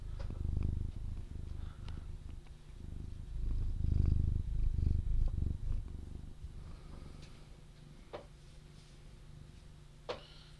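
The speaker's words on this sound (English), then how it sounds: "You hear her purr?" A cat purrs in a soft, steady low rumble up close, fading in and out with its breathing, followed by a few faint clicks and brief noises near the end.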